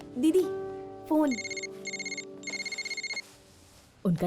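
A telephone rings in short repeated bursts of trilling, with voices speaking briefly before and after the rings.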